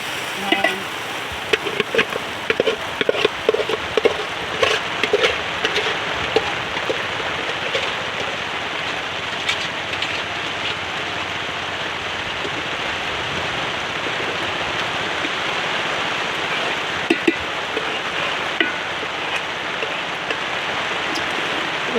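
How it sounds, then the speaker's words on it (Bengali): Dense, steady rush of rain pouring down in a village, loud and close, with scattered sharper drips and taps standing out over the continuous wash. "বৃষ্টিতে মোটামুটি ভালোই শুরু হয়ে যায়"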